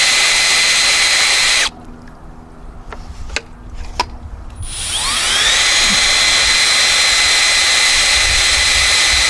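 A Spin-It-Off gold machine spins magnetite out of sluice concentrates. A loud high motor whine runs steadily, cuts out for a few seconds with some clicks and handling taps, then spins back up with a rising pitch to full speed.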